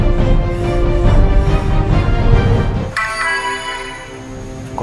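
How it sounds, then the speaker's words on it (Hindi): A phone ringtone in a gangster film scene cuts in partway through, a steady electronic ring that replaces a dense, busy background wash and continues to the end. "कुन्नड़ दा फोन"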